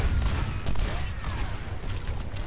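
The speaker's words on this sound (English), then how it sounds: "Still taking some free shots on Pharah, unable to finish the job" Rapid bursts of gunfire from the video game Overwatch crackle in quick volleys over a busy game background, fairly loud and continuous.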